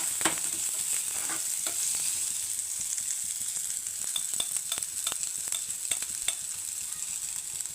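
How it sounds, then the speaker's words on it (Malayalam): Chopped garlic and onion frying in a little oil for an egg and spinach stir-fry, giving a dense continuous sizzle close by, with a run of light stirring taps toward the end. "ഇച്ചിരി ഓയിൽ ഒഴിച്ച് കൊടുക്കുക. അരിഞ്ഞ് വെച്ച വെള്ളുള്ളി ഇട്ട് കൊടുക്കുക."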